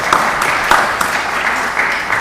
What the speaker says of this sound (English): Let's give God a round of applause for that.